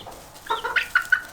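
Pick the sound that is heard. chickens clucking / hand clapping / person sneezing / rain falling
chickens clucking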